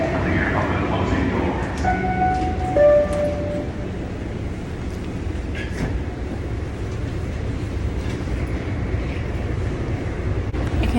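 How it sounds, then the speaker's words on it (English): A train pulls in to a station platform, a steady low rumble filling the scene with brief tonal squeals and whines of braking in the first few seconds; continuous and moderately loud, with no clear talk over it. "this is my train"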